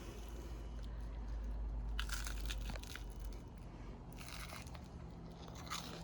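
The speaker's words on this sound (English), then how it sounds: "I'm going to do another bite" Crunchy bites into a hot bologna and cheese melt sandwich layered with bread, melted cheese and bologna, two bursts of crisp crackling chews close to the mic, alone without talk.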